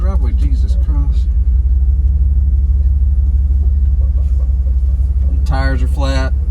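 A worn-out $1,700 bargain car with flat tires rolls through a neighborhood, its engine a steady low rumble throughout, with brief voices heard near the start and end.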